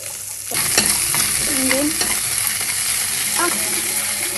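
Garlic, shallots and ginger sizzle steadily in hot coconut oil, a loud broad frying hiss starting after a brief quiet moment, with a few spoon scrapes and clinks stirring through it.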